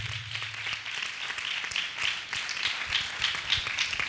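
A church congregation at an annual prayer festival claps loudly in praise, a dense run of many hands beating together in sustained applause.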